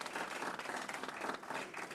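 Audience clapping at a live county government event, a short steady patter of hands from a crowd lasting about two seconds with no talk over it.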